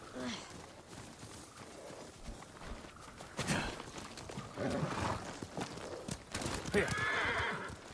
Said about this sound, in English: Let's check out Lady Masako's horse.